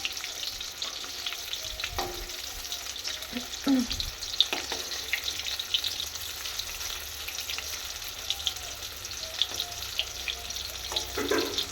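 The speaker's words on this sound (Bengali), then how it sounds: "এগুলো এখন হালকা করে ভেজে নেব" Vegetables fry lightly in hot oil with a steady close sizzle, broken by a few scraping stirs and clinks of a utensil against the pan, and no voices.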